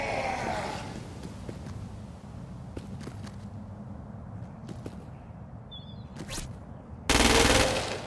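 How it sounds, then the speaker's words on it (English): Gunfire from the video game Crackdown 2, fired at a freak: a run of sharp scattered shots over a rumbling game background, ending in a louder burst. "Use precision targeting to shoot the freak's head or legs."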